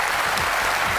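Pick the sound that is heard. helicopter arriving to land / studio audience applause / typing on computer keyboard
studio audience applause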